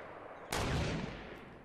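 A gunshot goes off in the Fortnite battle royale video game: one sudden loud blast with a broad rumbling tail that fades over about a second.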